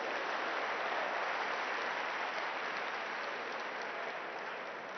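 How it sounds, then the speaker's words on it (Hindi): An audience at a mind power skill event applauds loudly, a dense steady wash of clapping from many people that holds throughout and fades slightly at the end. "प्लीज उनके लिए जोरदार ताली बजाइए।"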